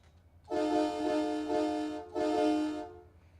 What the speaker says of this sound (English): Good old Freightliner train horn.